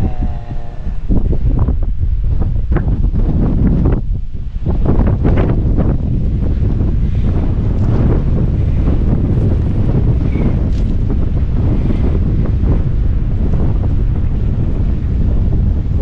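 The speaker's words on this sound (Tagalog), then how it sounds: "Medyo mahangin" Strong wind buffets the microphone over an onion field, a loud continuous roar and rumble with gusty rustling throughout.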